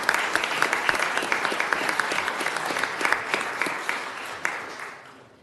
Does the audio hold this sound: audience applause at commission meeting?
yes